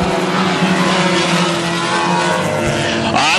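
Hornet class race cars battle into turn 3 at Ogilvie Raceway, engines roaring loud and close in a dense, continuous snarl that shifts pitch as they accelerate past.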